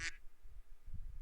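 A short burst of duck quacking in the video game Final Fantasy XIV, a quick bright call at the start followed by quieter low murmurs, faint overall with no talking.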